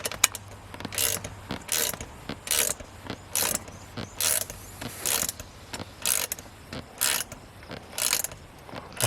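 A Horse Pal biting horse fly catcher is tightened up by hand, giving about a dozen evenly spaced bursts of ratcheting mechanical clicks, close and clear over a quiet background.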